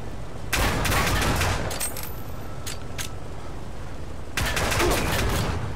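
Gunfire in the VR video game Hover Junkers, two dense bursts of rapid shots with a few single cracks between them, close and loud over a steady background hum.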